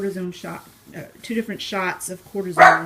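A dog barks indoors at home, a few sharp yaps breaking through over someone talking steadily in the foreground.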